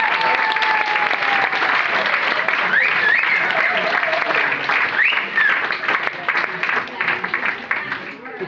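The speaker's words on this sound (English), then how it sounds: "we should give ourselves a round of applause for having come here and made their day" Wedding guests break into loud, sustained applause that fills the room, tapering slightly toward the end, with a few faint voices and whoops mixed in.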